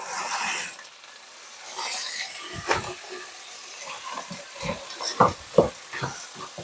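Southern-style frozen black-eyed peas are stirred in a pan over medium heat with butter, fat and seasoning. Close scraping and stirring strokes run over a soft sizzle, with a few louder clanks of the utensil.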